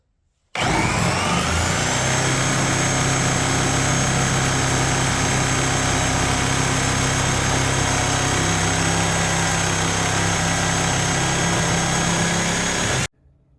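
A reciprocating saw fitted with a Diablo carbide blade runs continuously for about twelve seconds, making a loud, steady, close buzzing roar as it cuts. No one speaks.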